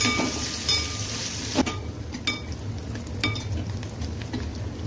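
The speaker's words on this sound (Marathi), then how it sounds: "कांदा आपल्याला चांगला 2 मिनिटं परतून घ्यायचा आहे" Onion sautéing in a pan for a simple baingan sabji, a steady close sizzle with a few sharp spatula taps and scrapes against the pan, no talk.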